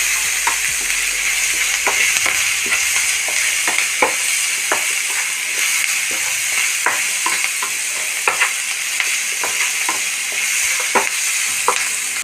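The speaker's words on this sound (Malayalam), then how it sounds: "ഇതൊന്ന് നന്നായിട്ട് ഫ്രൈ ആവണം" Onions fry in a pan as the base for chammanthi. A loud, close sizzle runs throughout, broken by frequent sharp scrapes and taps of a spoon stirring, with no speech.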